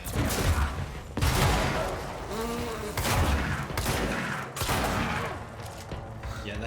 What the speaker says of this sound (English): you got the big blaster gun now